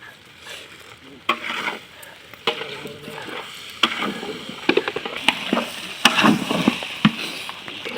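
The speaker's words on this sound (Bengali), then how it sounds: "বন্ধুরা আমাদের চাল আলু মশলা সব ভাজা হয়ে গেছে" Rice, potatoes and spices with ginger paste, salt and turmeric fry in a pan at an outdoor village kitchen, sizzling steadily under frequent sharp scrapes and clatters of a stirring spoon.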